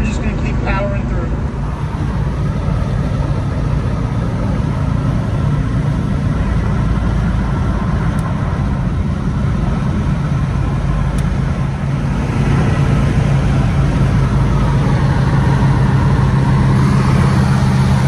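A hot rod cruising on a long highway drive makes a steady, loud engine drone mixed with road and wind noise, continuous throughout with no pauses.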